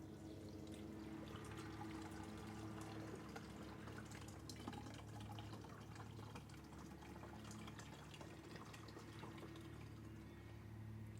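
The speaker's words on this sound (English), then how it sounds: "So now we're going to fill it up with 5 litres of water." Water being poured to fill a Hava R09 tabletop dishwasher with 5 litres, a soft continuous trickling and splashing stream heard close and quiet, without talk.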